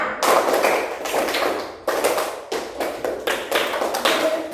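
Classmates clap hands together in a counted rhythm game, producing clustered groups of sharp, loud claps separated by short pauses, heard up close without talk.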